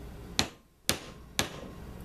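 A rubber mallet strikes a wheel bearing through a piece of wood to seat it, three sharp, evenly spaced knocks about half a second apart, close and distinct against a quiet background.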